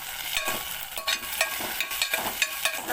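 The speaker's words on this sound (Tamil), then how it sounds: "இப்போ இந்த டைமில் நம்ம தக்காளி போட்டுப்போம்." Onions sautéing in a pan for a Tamil murungakkai kara kuzhambu (drumstick curry), with a steady sizzle and repeated scraping stirs at a near, moderate level, no talk.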